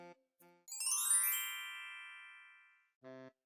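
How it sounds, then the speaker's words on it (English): Doorbell rings with a clear two-tone ding-dong chime whose bright ringing tail fades over about two seconds, framed by short chime bursts before and after, heard alone indoors. "how long were you planning on ringing my doorbell?"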